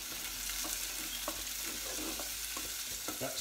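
Sliced garlic fries in a pan while making pea and courgette soup, giving a steady close sizzle with faint stirring sounds.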